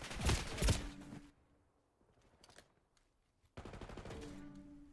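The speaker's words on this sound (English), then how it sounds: "Wasp puts a lot of shots into Kim" Bursts of automatic gunfire from an esports video game match at a championship event, a dense rattle at the start, a quieter stretch with scattered shots, then another sustained burst near the end.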